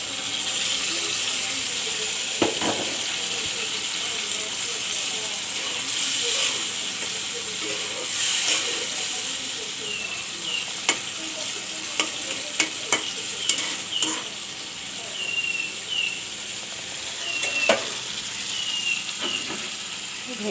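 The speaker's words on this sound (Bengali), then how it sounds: "এখন দিয়ে দেব ইলিশ মাছের পেটাগুলো।" Hilsa fish belly pieces go into a hot pan of cooked-down spice paste and sizzle with a loud, steady hiss, while occasional sharp clacks and scrapes of a spatula are heard close up and no one speaks.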